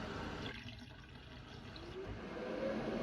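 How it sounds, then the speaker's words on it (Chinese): Cut potato strips rinsed under running water in a home kitchen, a steady close wash of splashing and pouring water that swells slightly toward the end, with no talking. "把切好的土豆條先倒出，用清水沖洗2遍"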